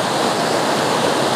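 A flooding river rushes over and around a bridge as the water rises, a loud, dense, continuous roar of churning water with no voices.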